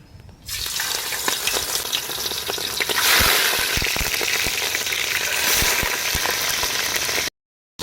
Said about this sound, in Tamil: வெள்ளை எலி அதை எண்ணெயில் பொறிச்சு எடுத்துக்கலாம்